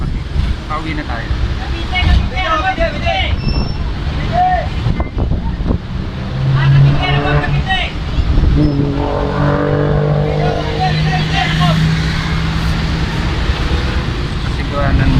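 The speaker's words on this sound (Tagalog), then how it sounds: "Nakasakay na tayo ng baby bus ngayon mga kapatid." Riding inside a crowded baby bus, a small minibus, through traffic: a constant loud engine and road rumble with wind noise, while several voices talk throughout.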